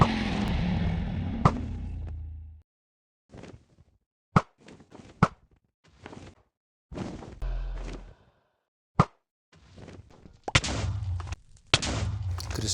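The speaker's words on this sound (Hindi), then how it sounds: "उसके बाद मैंने स्टार्ट किया क्रिस्टल्स को फोड़ना।" End crystals blowing up in Minecraft Bedrock Edition, a string of sharp, loud booming blasts spaced irregularly after a stretch of rumbling, each burst short and close, with quiet gaps between.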